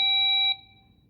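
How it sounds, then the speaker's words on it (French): A Hytera PNC370 two-way radio sounds its busy channel tone: one clear, steady electronic beep that holds for about half a second, then rings faintly away. No talk is heard. "Je peux aussi changer la tonalité de canal occupé."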